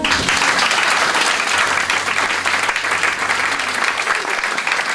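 Church congregation applauding, a dense sustained burst of clapping filling the room at even loudness throughout.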